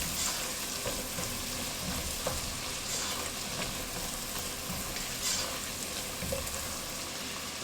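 Red pepper flakes are stirred into a potato soup base in a pot, with steady sizzling and frying and faint scraping as the mixture is moved around, no voices.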